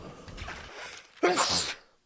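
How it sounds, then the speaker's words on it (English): A single sharp sneeze bursts out close by after a moment of faint murmuring, loud and breathy, then quickly fades. "Sorry, I gotta sneeze."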